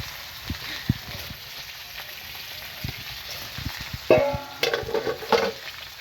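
Potato and eggplant fry for a bata fish curry, giving soft crackling sizzle under scattered stirring clacks and taps in the pan, with a brighter burst of bubbling sizzle near the end.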